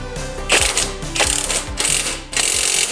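A coilover spring collar is turned on a BMW M3 suspension, producing loud, close metallic ratcheting clicks in four bursts, each a rapid rattle of gear-like clicks separated by short pauses, with no talking.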